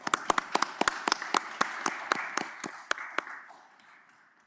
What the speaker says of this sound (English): Gentlemen, a round of applause.